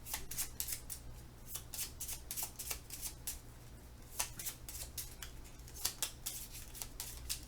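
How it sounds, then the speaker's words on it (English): Cards from the Parks board game, including Sunshine Gear cards, are shuffled back into the deck with repeated soft, close riffles and flicks in a quiet room for several seconds. "we are going to shuffle these 3 Sunshine Gear cards back into this deck at this point"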